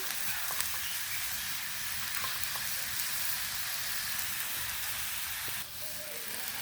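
Slit green chillies sizzle in an overheated pan for a spicy potato and pangas fish curry, producing a steady, even frying hiss that holds close and constant throughout, with no voice over it.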